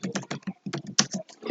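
Quick bursts of typing on a computer keyboard while entering a description in WinDev software, irregular clusters of close, crisp keystrokes with short pauses between them.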